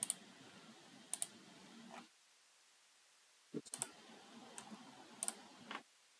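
A computer mouse clicking in short, sharp clicks that come in small clusters, separated by a few seconds of near silence, quiet and close.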